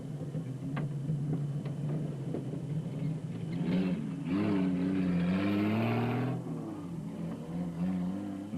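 The Ryobi Nissan race car's engine roars past during a 2007 Carnival City 400 race, a mid-distance rumble that swells to a loud revving pass around the middle, then fades, with no talk over it.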